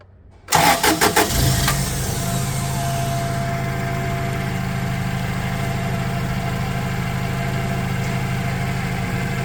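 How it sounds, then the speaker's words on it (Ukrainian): A 2018 Toyota 02-8FGF30 forklift engine cranks with a few rapid starter pulses, catches, then settles into a steady low idle that continues evenly to the end. "До речі, можу запустити. Вже двигун зараз запуск."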